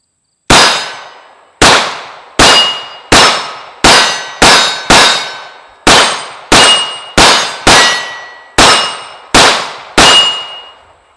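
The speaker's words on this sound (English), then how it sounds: "we'll start off with the P-01 and ring some steel." A CZ P-01 pistol fires at steel targets outdoors, each hit giving a loud ringing clang that decays quickly; fourteen strikes land in an uneven rhythm of quick pairs and short pauses, with no talk.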